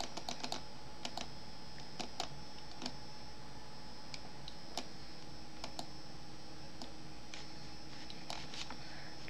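Keyboard typing while playing Roblox, a steady run of light key clicks with a few sharper taps standing out, close and fairly quiet, with no voices.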